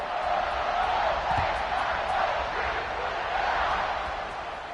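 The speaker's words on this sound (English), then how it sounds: "this crowd is buzzing after that last score" A college football stadium crowd buzzes after a score in a game against Ohio State, a dense, steady roar of many voices filling the space, with commentary talk over it.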